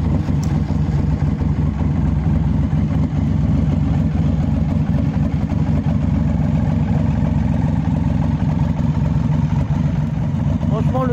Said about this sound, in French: maintenant je vais vous la démarrer pour que vous puissiez entendre le son de la moto.